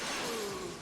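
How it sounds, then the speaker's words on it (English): Glass shatters loudly as a man's head is bashed through a pane in a 1990s martial arts action film fight, a dense crashing burst that holds for under a second with no voices. "And Steven Seagal himself partakes in the festivities with his head bashed through this glass"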